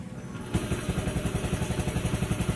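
An old Hero Honda motorcycle engine catches after a short starter whir and settles into a rapid, even, thumping idle, close up and steady.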